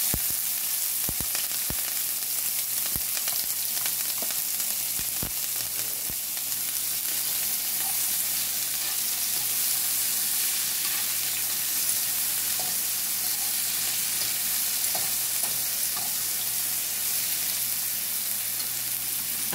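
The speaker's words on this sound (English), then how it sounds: "I'm gonna allow these to saute, or I would say fry up. I'm gonna fry up my seasoning." A seasoning of tomatoes, scallion, thyme, onion and garlic fries in a pan, a continuous close sizzle with occasional clicks and stirring scrapes, steady throughout with nobody speaking.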